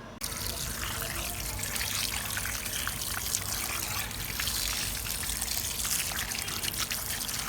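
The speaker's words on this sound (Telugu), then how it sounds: "కూర అయితే శుభ్రంగా నీట్గా కడుక్కున్నానండి." Tap water runs and splashes steadily in a sink as farm chicken meat, already cut into pieces, is washed, a continuous close trickling gush with no one talking.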